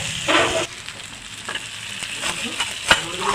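Fried tempering with tomato poured into bottle gourd greens for masoor dal, giving a burst of sizzle with stirring scrapes and a few sharp clinks, moderately loud and without talk.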